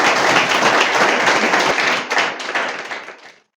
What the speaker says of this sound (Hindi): तो एक बार सारे जोरदार ताली बजा दो अनीता के लिए।